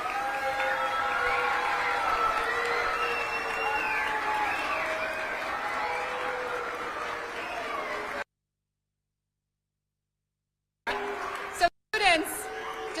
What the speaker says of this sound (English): let's give another big round of applause for 2026 Teacher of the Year, Mrs. Dixon